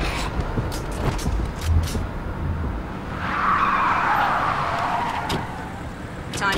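A car in Splinter Cell Conviction pulls up with a skidding screech of tires over a low engine rumble. The braking swell is loud and close mid-way through, with faint scattered clicks around it.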